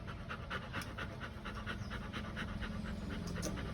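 A dog pants steadily and close by in rapid rhythmic breaths, continuous throughout with no talking.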